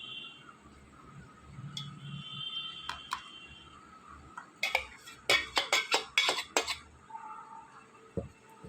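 Thick, ripe mango juice pressed through a sieve, giving a burst of quick metallic scraping and tapping strokes against the strainer, with softer clinks before and after in a quiet kitchen.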